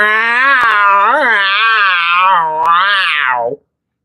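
A single long, loud, drawn-out meow close up, wavering in pitch for about three and a half seconds before cutting off abruptly.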